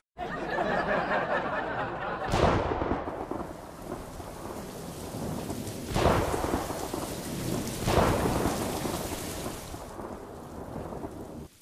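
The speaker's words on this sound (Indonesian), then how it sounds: "Hujan deras, udah kagak khawatir kebanjiran." Heavy rain pours steadily throughout, broken by three loud, close thunderclaps that crack sharply and then rumble away; no one speaks.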